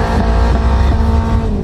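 A Peugeot 206 engine at a car meet roars loudly and steadily up close, a dense continuous revving with no pauses.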